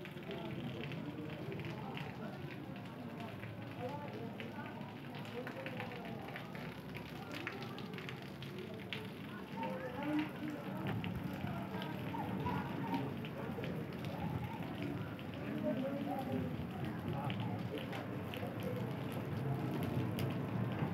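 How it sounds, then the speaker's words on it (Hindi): Light drizzle falling over a city, a steady soft wash of rain that continues evenly throughout with no clear individual drops standing out. "आज हमारे शहर वगन में रिमझिम बारिश चल रही है"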